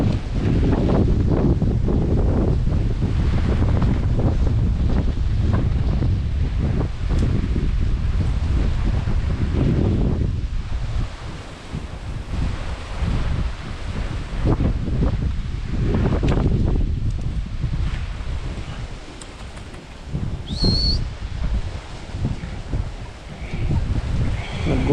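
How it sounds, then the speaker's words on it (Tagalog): Strong wind roars and buffets continuously, with broad rushing noise that gusts and briefly eases before surging back, loud and close throughout. "ramdam pa rin po yung lakas ng hangin no oh."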